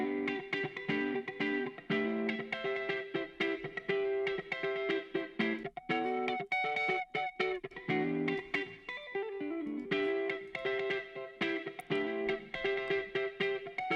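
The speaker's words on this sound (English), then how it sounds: "this is going to be a little bit more of a chorused or flanged reverb effect" A music stem processed through a Waves H-Reverb plugin set to a chorused, flanged reverb, with rhythmic tonal chords swirling and shimmering in a steady pulsing pattern and no speech.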